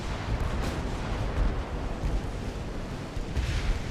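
Naval guns, including 4-inch secondary batteries, firing in a warship battle game, a dense rumbling barrage of overlapping booms with a few sharper reports standing out, steady and moderately loud throughout.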